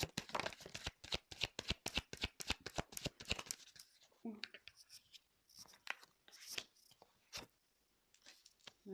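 Tarot cards are shuffled by hand in a fast, even run of crisp riffling slaps, then continue in sparser, softer bursts, close and clear.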